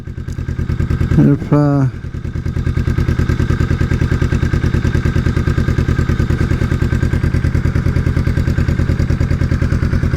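A 2019 Kawasaki Vulcan S motorcycle engine idles with a steady, loud, even putter, fitted with an aftermarket exhaust; a voice briefly speaks near the start over the continuous running.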